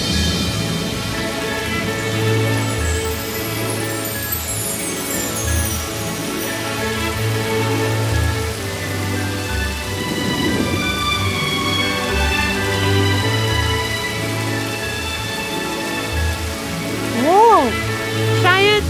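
Steady rain pours down continuously, with soft drops pattering throughout, mixed with gentle melodic tones and occasional rising chimes near the end.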